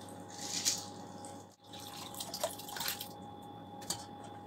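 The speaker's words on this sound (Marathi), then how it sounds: "आता ह्याच्यात मी परत थोडंसं पाणी ॲड करते" Water poured into a bowl of soaked tamarind pulp while making a sweet and sour tamarind jaggery chutney, with soft splashing and dripping trickles close by, a brief lull midway, then more pouring and drips.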